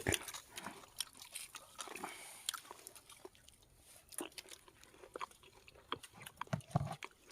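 Close, crunchy chewing and biting of roasted pork grilled in a hut, with repeated crisp bites and smacking mouth sounds in an irregular rhythm, nearby and fairly quiet, with no talking.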